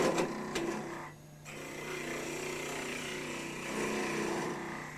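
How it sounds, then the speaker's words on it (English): A gouge hollows out a wood piece on a spinning wood lathe with its bevel rubbing, producing a steady droning motor hum over a continuous rough scraping hiss that briefly eases before resuming at a constant level. "Hollowing out, keeping the bevel rubbing."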